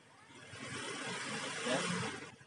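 A car engine revs while the battery voltage is checked, giving a close, steady roar that swells briefly near the end before easing off.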